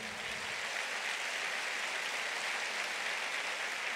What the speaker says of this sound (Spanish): denle el aplauso al Señor